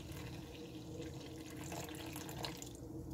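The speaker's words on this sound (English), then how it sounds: "You will add your warm water." Warm water pours into a bowl of whole wheat bread dough ingredients, a short continuous soft splashing trickle, close and fairly quiet, with no voices.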